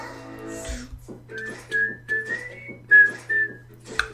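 A person whistles a catchy pop song, clear bright pitched phrases in a bouncing rhythm of short repeated notes and brief held tones, close and alone over a low steady hum.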